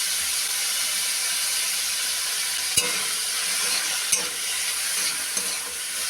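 Prawns frying with salt and nigella seeds in a pan, a steady, close sizzle and hiss with a few faint knocks from stirring.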